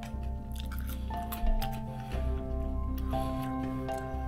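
Crisp crunching bites and chewing of Birds Eye Golden Crunch microwave chips, close up, over a steady background hum with a few tonal beeps.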